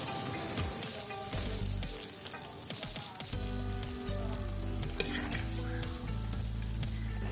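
Spices including chilli powder frying in a pan for a fish head curry, producing a dense, steady sizzle with crackles and a few soft scraping stirs, close and without talk.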